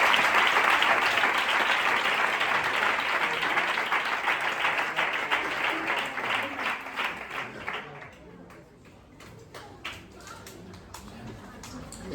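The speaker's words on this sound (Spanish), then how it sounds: "Dale un aplauso a la palabra del Señor" A church congregation claps together in a sustained burst of applause that fills the room, then thins out into scattered claps over about twelve seconds.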